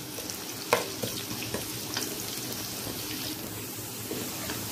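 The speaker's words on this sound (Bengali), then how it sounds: "এবারে আমি এলাচ, দারচিনি, তেজপাতার সাথে পেঁয়াজটা একটু হালকা ভেজে নেব।" Onion frying gently in oil with cardamom, cinnamon and bay leaves for bhuna khichuri, a soft, even sizzle with a light utensil clink early on and occasional stirring, fairly quiet and with no voices.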